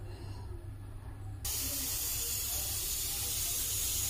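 A pressure cooker cooking black urad and chana dal hisses loudly, the steam suddenly bursting into a strong continuous jet that keeps rushing without a break.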